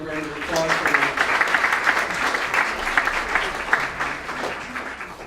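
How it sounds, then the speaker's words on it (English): A luncheon audience at a League of Women Voters event breaks into sustained applause, dense clapping that carries for several seconds at fairly close range. "Let's give everyone a round of applause for that."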